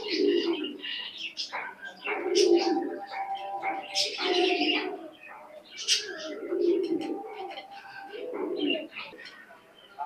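Oman teddy pigeons in a loft coo in repeated low, rolling phrases, close and clear, with a few chirps and a voice speaking briefly between the calls.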